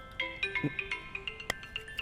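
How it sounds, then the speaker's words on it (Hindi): A mobile phone rings in a movie scene, playing a short melodic electronic ringtone of bright repeating notes with no voices over it. "इस समय कौन फोन कर रहा है?"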